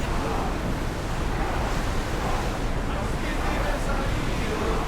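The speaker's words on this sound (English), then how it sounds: "Feel that wind!" Wind and surf rush steadily around a sailing ship at sea in Assassin's Creed Odyssey, a loud, constant roar of waves and gusts with no break.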